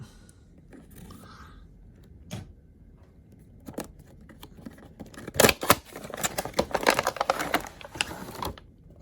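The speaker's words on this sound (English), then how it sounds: "Go ahead and cut the tape." Packing tape on a toy box being cut, a few sparse snips and scrapes early on, then a denser burst of slicing, tearing and crinkling cardboard sounds close by, with no talking.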